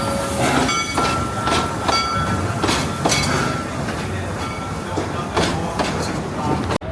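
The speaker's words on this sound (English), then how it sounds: "Oh, here comes the train." A small amusement park train at Kings Island rolls steadily past with rhythmic clickety-clack of wheels on track and rumbling cars, close by, with people talking faintly in the background.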